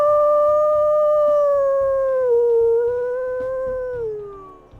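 A grey wolf in the video game WolfQuest gives a long, sustained primary howl, a clear tonal wail that slowly falls in pitch over several seconds, loud and close with faint game ambience underneath.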